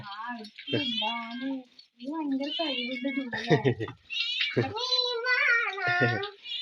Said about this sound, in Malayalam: ആ പൂച്ചയുടെ പേര് പറഞ്ഞപ്പോ പൂച്ച എത്തി അല്ലേ